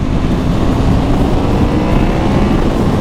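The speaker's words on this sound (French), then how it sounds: "Après la sortie de la courbe, on accélère un peu." A Yamaha MT-10 motorcycle pulls hard out of a curve, its engine a dense, loud roar that stays steady and close throughout with no talk.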